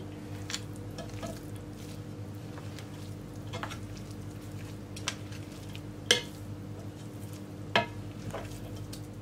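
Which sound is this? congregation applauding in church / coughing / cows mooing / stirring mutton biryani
stirring mutton biryani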